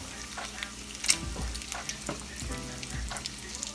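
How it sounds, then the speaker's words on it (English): A spoon stirs grits with added milk and butter in a pot, giving soft scraping and bubbling sounds close by, with light clinks and no voices. "That's why you have to keep stirring them so they won't stick."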